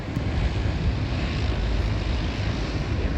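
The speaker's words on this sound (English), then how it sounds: "Oh, this is 777. This is a 777," Boeing 777 airliner taking off at Sydney, a continuous low rumbling engine roar mixed with wind buffeting on the microphone, steady throughout with no talk.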